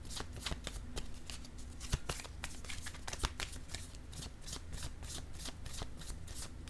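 Fortune-telling cards are shuffled by hand in a close, continuous riffle of papery flicks and soft slaps. The texture stays steady and dense for several seconds, with a couple of sharper taps along the way.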